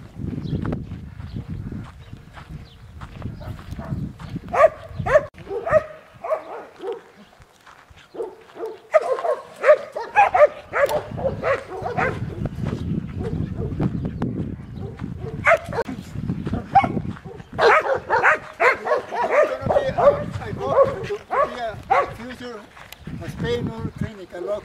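Dogs at a pet resort bark in repeated bursts, near and fairly loud, with people talking throughout.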